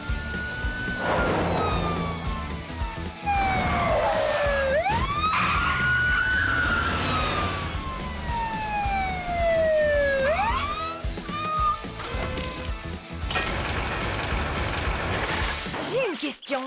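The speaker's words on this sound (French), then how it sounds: "C'est comme ça qu'une sirène doit sonner." A cartoon siren on Tracker's jeep wails in repeated rising and falling sweeps, loud and close, with engine and mechanical noises and a voice briefly talking over it.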